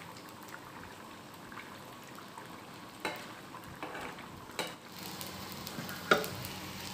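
Fish frying in a pan with roasted cumin powder sprinkled over it, a quiet continuous sizzle broken by a few soft scrapes and taps, no voices.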